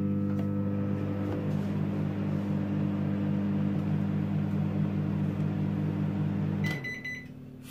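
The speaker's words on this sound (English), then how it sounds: "Recover and bang it back in microwave" A microwave oven heating a ready meal of fish and chips with mushy peas hums loudly and steadily close by, then stops abruptly near the end, followed by a short burst of high electronic beeps.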